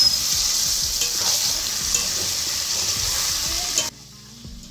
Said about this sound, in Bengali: আর এখানে কন্টিনিউ খুন্তিটা নাড়াতে হবে